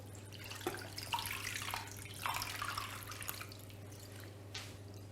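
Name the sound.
water poured into a pan over meat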